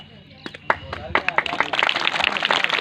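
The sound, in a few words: audience clapping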